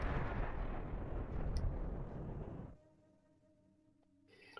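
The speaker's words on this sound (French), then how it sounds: "Le train vient de exploser un tout petit peu là-bas." An explosion in a Battlefield 1 desert mission, where a train is blown up: a broad rumbling blast that roars for a few seconds, then cuts off to faint quiet game ambience with a small pop.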